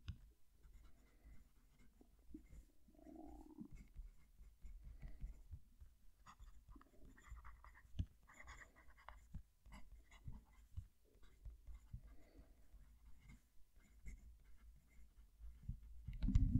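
A Conklin All American fountain pen writes a sentence on paper, giving soft, close scratchy strokes in short bursts with brief pauses, quiet and alone.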